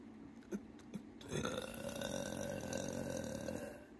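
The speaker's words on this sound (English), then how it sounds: "Confirmation burp." A single deep, drawn-out burp rumbles close to the mic after a couple of faint thumps, swelling in and then holding as a long, rough belch for a few seconds with no talk over it.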